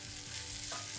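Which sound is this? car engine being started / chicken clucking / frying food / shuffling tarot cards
frying food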